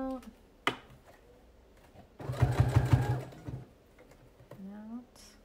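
A sewing machine stitches a reusable fabric mask in one close, steady burst of rapid mechanical clatter lasting about a second and a half, with quiet handling sounds and brief talk before and after.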